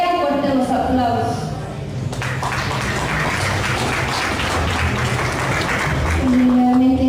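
A crowd at a queen coronation event in San Francisco el Alto bursts into sustained, dense applause, steady and loud for several seconds, with a voice speaking over the start and end.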